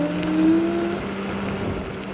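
Dragon Raptor electric scooter motor running, a faint, steady low whine with a few thin tonal lines and a soft wash of road or wind noise, continuous throughout with no voices.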